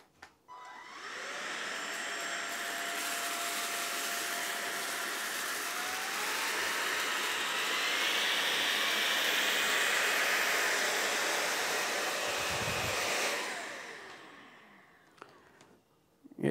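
Oraimo UltraCleaner S2 cordless stick vacuum running in auto mode over carpet, a steady whooshing motor drone that rises slightly in pitch midway, then cuts off, leaving faint handling clicks.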